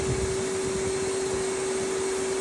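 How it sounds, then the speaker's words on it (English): A vacuum cleaner runs steadily and loudly with a constant motor whine, its nozzle wrapped in a rag and pressed to the A/C drain line of a Ford Edge, with no talking over it. "Put the vacuum cleaner nozzle on it, wrap a rag around it"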